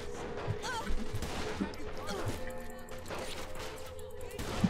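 Shotgun fire in Saints Row The Third, several heavy blasts spaced unevenly amid game noise and mechanical hum, with a voice talking over part of it.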